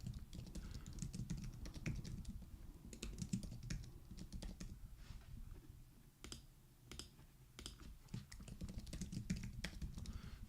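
Quick, uneven typing on a computer keyboard, a close run of light clicks and clacks with short pauses, steady and without any voice over it.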